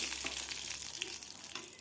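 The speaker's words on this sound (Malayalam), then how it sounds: "ഒന്നര ടേബിൾ സ്പൂൺ വെളിച്ചെണ്ണ ഒഴിച്ച് ഒരു ടീസ്പൂൺ കടുക് ഇട്ട് കടുക് പൊട്ടി വരുമ്പോൾ രണ്ട് പച്ചമുളകും കുറച്ച് കരിയേപ്പിലും ഇട്ട്" Mustard seeds, green chillies and curry leaves fry in coconut oil, making a bright, continuous close sizzle with small crackles and pops throughout, with no talking.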